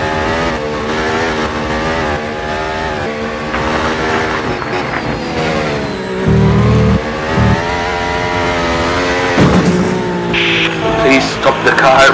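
Racing car engine from a mobile racing game, running car with front wing damage, a continuous loud harmonic whine rising and falling in pitch as the car revs, with a brief low thump midway and short bursts near the end.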